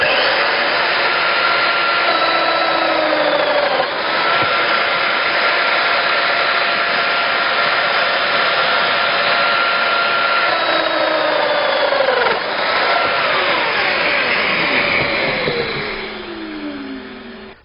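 A Festool Domino XL joiner runs loud and continuous, its high motor whine steady throughout while the pitch dips and sweeps as the cutter plunges into the wood to cut mortises, then winds down near the end.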